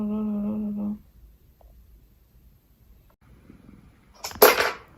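A house cat purrs close and steady for about a second, then stops, leaving near silence before a brief loud rustle or clatter near the end.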